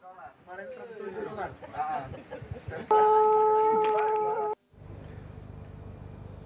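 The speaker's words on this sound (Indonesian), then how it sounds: "Nah itu tadi Cek Namira, salah siko ayam asli Indonesia nih yang mempunyai kokokan yang nyelengking dan suara kokokan yang khas nih Cek Namira" A Pelung rooster, an Indonesian breed known for its long, shrill crow, lets out one sustained, loud, tonal crow lasting over a second, after a stretch of talk and clucking, followed by quieter background noise.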